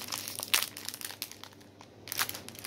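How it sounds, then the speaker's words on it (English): Plastic packaging around beads is crinkled while being opened, making close, soft, irregular crackling bursts with brief quiet gaps between them. "I am sorry about the crinkling"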